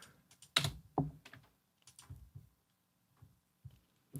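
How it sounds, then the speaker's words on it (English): Keystrokes on a computer keyboard during a GarageBand editing session, scattered clicks and taps in an uneven rhythm, close and fairly quiet with pauses between them. "if I hit A on my keyboard"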